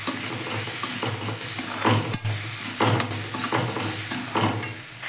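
Spices, coriander powder and chili powder, are stirred and sautéed in hot oil for a shrimp and taro flower dish, with a continuous close sizzle, scraping stirring strokes roughly every second, and no talking.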